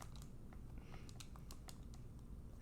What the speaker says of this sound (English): So I'm just typing in my calculator here.